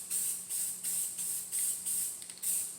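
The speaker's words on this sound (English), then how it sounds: "spray paint the whole upright." Bursts of spray paint hiss in quick repeated pulses, each a short sharp blast with brief gaps between, fairly close, as a can sprays paint over a template onto an upright.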